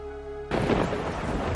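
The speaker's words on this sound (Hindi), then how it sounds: "तभी तेज बारिश शुरू हो गई।" Heavy rain bursts in suddenly as a dense, roaring wash with a low rumble, loud and close after a brief quieter tone.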